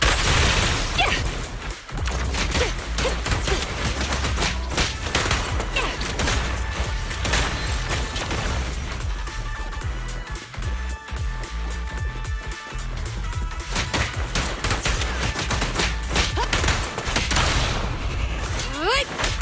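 Heavy sustained gunfire in the Zenless Zone Zero video game on PS5, dense bursts and booms layered with mechanical clatter and effects, loud and continuous throughout with a voice briefly heard amid the barrage.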